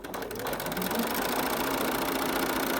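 A sewing machine back-stitching interfacing on a cloth mask, running steadily with a fast mechanical chatter, close and loud without pause.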